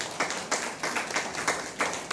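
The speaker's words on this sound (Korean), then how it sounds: "응원의 박수." Church congregation applauding at a Sunday worship service, steady rhythmic group clapping in pulsing waves, moderately loud and without talk.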